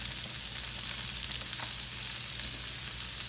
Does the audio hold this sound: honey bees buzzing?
no